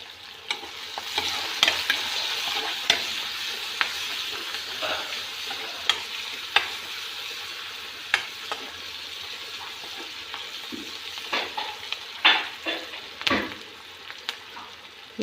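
Onions and green chilies fry in a pan with a steady sizzle. A spoon strikes and scrapes the pan in sharp, irregular clicks, close and fairly loud, with no talking.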